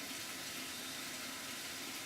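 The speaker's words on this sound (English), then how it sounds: "you want to spray these down and get some of that rinse through that so that you don't have all that soap suds in there" Steady hiss of rinse water sprayed into the drum of a Frankford Arsenal Platinum Series 7L rotary tumbler, a constant, faint, unbroken spray with no talk.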